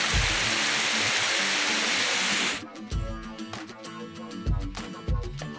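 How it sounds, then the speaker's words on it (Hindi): A small mountain stream on the Mandani Valley trek in Uttarakhand rushes loud and steady, with a dense unbroken hiss for a couple of seconds, then gives way abruptly to rhythmic music. "बीच बीच में ऐसे काफ़ी छोटे छोटे गधेरे मिल गए हैं जहाँ हम पानी पी सकते हैं"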